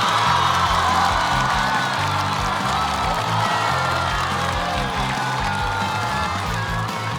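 A studio audience at a comedy show welcomes Li Naiwen with sustained applause and cheering. The crowd noise is steady and fairly loud over a bright musical backing, with no break in it.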